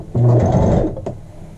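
A sewing machine runs briefly, stitching the neckline seam of a child's shirt through thick seam allowance layers, a loud close whirring burst that fades out after about a second.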